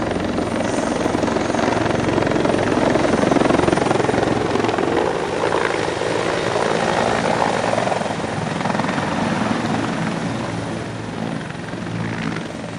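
Helicopters overhead in the city during the September 11, 2001 attacks: a loud, continuous rotor and engine roar that stays near and steady throughout, with no voices over it.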